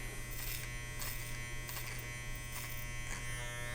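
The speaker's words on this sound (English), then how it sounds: "we're going to continue working clipper over comb" Electric hair clipper buzzing steadily during a clipper-over-comb haircut, a close continuous hum with faint rhythmic pulses as it passes through the hair.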